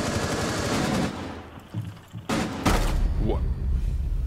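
Shotgun blasts in the tactical shooter Rainbow Six Siege: a few heavy, sharp booms separated by gaps, mixed with thuds and game noise, loud and close, with no talk over them.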